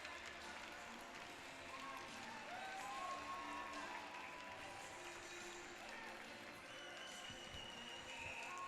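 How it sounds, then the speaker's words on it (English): Crowd at a Shreveport Mudbugs minor-league ice hockey home game giving a standing ovation, a steady wash of applause and cheering filling the arena throughout, with faint whistle-like tones and an announcer's voice partly under it. "now a standing ovation for our hometown hero"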